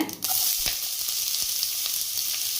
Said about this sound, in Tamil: சேர்த்திட்டு நல்லா இந்த எண்ணெயில் வதக்குங்க